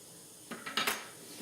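Rock-hard cookie dough, frozen for about two months, is broken by hand with a quick cluster of three or four sharp cracks and knocks, fairly faint, against a quiet room with no talk.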